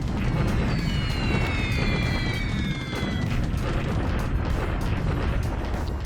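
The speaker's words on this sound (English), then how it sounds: "4 bomb hits on the Glen Lamont" Bombs exploding on a ship in a WWII Pacific strategy video game, a dense continuous rumble of blasts and booms, loud and sustained, with a brief descending whistle early on.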